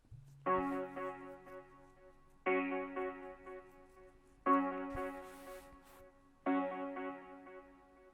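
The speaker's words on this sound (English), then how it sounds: "is my synth, sort of a step, and it sounds like this." A repeating FL Studio synth chord pattern in a deep house track sounds in four evenly spaced bursts, each a sustained stepped tone that cuts off cleanly before the next, with no talking.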